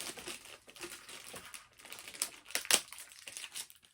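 Crinkling plastic wrapping pulled from the legs and foot of a Jurassic World Super Colossal Allosaurus toy during unboxing, a close, busy run of rustles and crackles with a few sharper crunches near the end.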